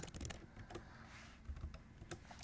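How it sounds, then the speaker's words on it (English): Keys clatter on a computer keyboard while an email message is typed, an uneven stream of soft close clicks and taps over a low background hum, with no voices. "now type your message"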